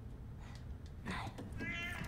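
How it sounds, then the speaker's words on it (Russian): A cat meows a few times in The Last of Us: Left Behind, fairly faint and drawn out against low background noise. "Господи, чертова кошка."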